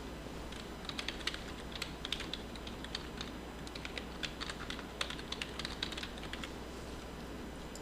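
Steady typing on a computer keyboard as a form is filled in, with soft, close key taps in irregular runs over a low, constant room hum.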